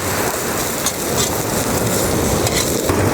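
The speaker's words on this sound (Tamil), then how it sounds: "மஞ்சப்பொடி இப்படி கிண்டி விட்ருவோம்" Onions and turmeric fry in coconut oil with a loud, dense sizzle close by, while a utensil steadily stirs and scrapes through the pan.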